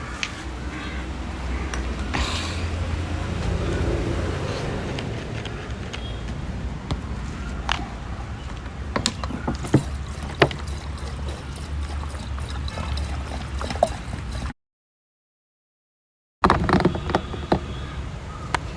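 Diesel poured into the fuel tank of a Toyota Qualis under rebuild, a continuous trickling pour with occasional creaks and knocks of the container, a short silent gap near the end before the noise resumes.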